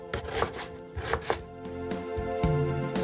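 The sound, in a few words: chopping onions with a knife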